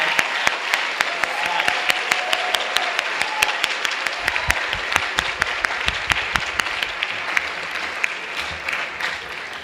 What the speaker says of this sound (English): Please give a round of applause to the Strongsville Instrumental Music Boosters.